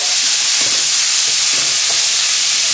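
Bacon with a knob of melting butter sizzling loudly in a hot pan, a dense, steady hiss of frying fat that stays constant throughout with faint stirring beneath.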